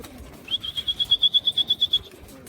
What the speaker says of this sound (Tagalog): nag-aaway pa sila mga kalapatids, itong dalawang to